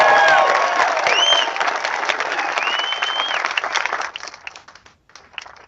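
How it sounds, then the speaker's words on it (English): Loud, sustained applause and cheering from a large outdoor rally crowd in Boise, Idaho, with scattered whistles and whoops, fading down toward the end. "We want to give a big round of applause for the Boise Police Department"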